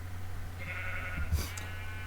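Sheep bleating in the Minecraft video game: a single drawn-out, nasal bleat, clear and fairly close over a low steady hum, with no talk.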